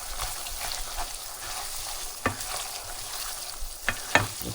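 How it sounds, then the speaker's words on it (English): Ground beef browns in a pan with a continuous soft sizzle, punctuated by a few sharp scrapes and knocks as a utensil stirs and breaks up the meat, close and moderately quiet. "Give it one more stir"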